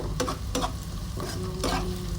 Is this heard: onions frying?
yes